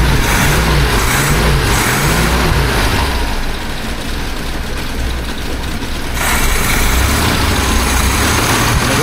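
A 1976 BMW 2002 engine runs at high idle, a loud, steady low rumble close by that dips briefly in the middle before resuming at full strength.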